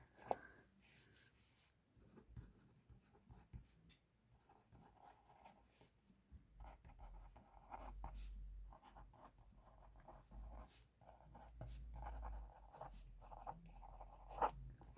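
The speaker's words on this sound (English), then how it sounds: "Sorry if I can't talk while I'm writing." Pen scratching across the pages of a 2025 planner, a steady run of close, quiet writing strokes with short pauses and no talking.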